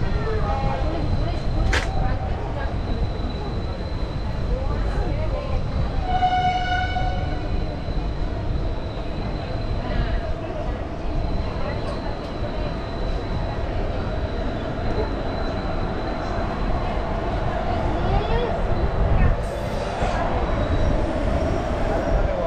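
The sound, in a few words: train running after leaving Azimganj station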